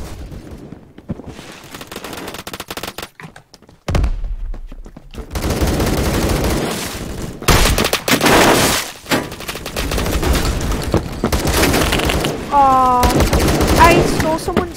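Sawed-off shotgun gunfire in the Roblox game Phantom Forces: loud gunshot bursts and heavy blasts with chaotic battle noise throughout, including a sharp boom near the middle and a clattering sequence toward the end.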